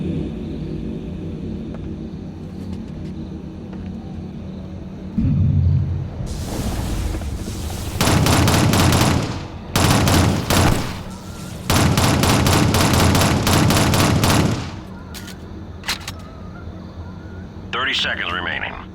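Bursts of weapon gunfire in the Shadowrun video game as attackers are repelled, loud rapid volleys in several long stretches over a low rumbling backdrop, with brief pauses between bursts.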